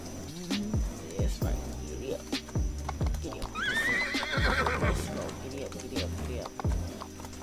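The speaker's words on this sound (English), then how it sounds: "Giddy up, horse!" A Roblox Wild West horse gallops with rhythmic clip-clop hoofbeats and gives a loud whinny midway, with speech-like sound mixed in.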